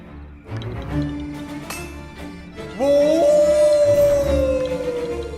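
Wolves howl in the video game Puppeteer, a long rising then slowly falling howl that swells loud over game music and low ambient tones after a quieter opening.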